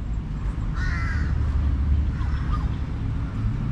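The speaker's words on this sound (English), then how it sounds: "Beautiful park, listen to the birds." Crows cawing in a Bangkok park, two short hoarse calls and a fainter third over a low steady rumble of distant city traffic, with no one talking.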